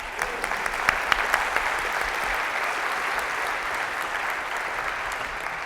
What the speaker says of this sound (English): ask you to welcome our students with your applause